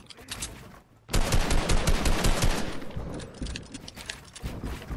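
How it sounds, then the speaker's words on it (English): Rapid bursts of gunfire from the video game Fortnite ring out loud and near, a dense rattling volley starting after a brief quieter lead-in and continuing in uneven clusters. "Somebody, I could have swore that somebody just shot at me."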